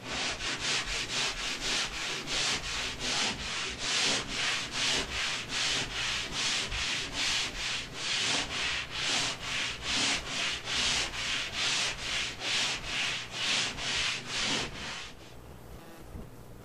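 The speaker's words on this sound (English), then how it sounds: "while I'm doing all this sanding" Rhythmic back-and-forth strokes of sanding across a ceiling patch, about two strokes per second, close and scratchy, stopping near the end.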